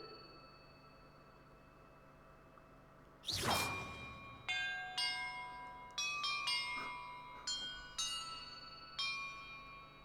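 Bells rung in order to solve a puzzle in Hogwarts Legacy: a sharp whoosh, then a sequence of about seven clear, ringing chimes struck one after another, each left to decay.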